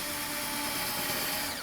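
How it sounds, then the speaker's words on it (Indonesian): A DongCheng DCPL04-5 cordless drill with an internal battery bores a shallow hole into Dutch teak, giving a steady, close, high-pitched motor whine that holds evenly for the whole moment, with no one speaking. "Kita bor dangkal"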